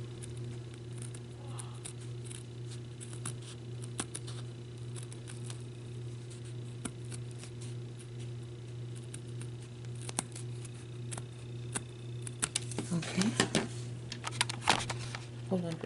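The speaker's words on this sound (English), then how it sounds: "And I'm using my detail scissors to do this. And I'm just taking little cuts and going around" Small detail scissors snip around craft vinyl in short, little cuts, giving faint scattered clicks over a steady low hum, with a denser cluster of snips near the end.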